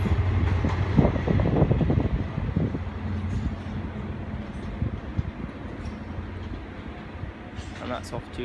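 A passenger train, the Cornishman from Penzance, rumbles and clatters as it rolls into Exeter St Davids station, louder at first and then easing to a low steady rumble, with voices talking.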